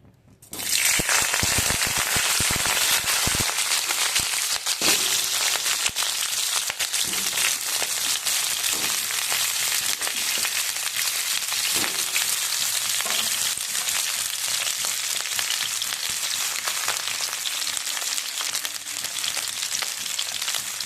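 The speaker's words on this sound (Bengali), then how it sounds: "তেলটা আমি আগের থেকে গরম করে নিয়েছি, ফুলকপি আলুটা ভেজে নেব।" Cauliflower and potato pieces dropped into hot oil, a sudden loud burst of crackling after a quiet start, settling into a dense, steady sizzle with scattered pops that lasts to the end, no voices.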